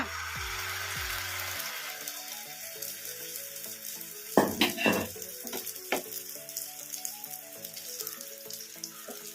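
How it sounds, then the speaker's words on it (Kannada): An egg and onion omelette bonda mixture fries on a hot pan over a medium flame, giving a steady sizzle with a burst of louder spattering and a few scraping touches midway, with no voices. "ಇದನ್ನ ಮೀಡಿಯಂ ಫ್ಲೇಮಲ್ಲೇ ಫ್ರೈ ಮಾಡ್ಕೋಬೇಕು"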